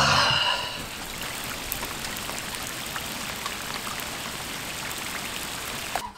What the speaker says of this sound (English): So it's just started raining outside.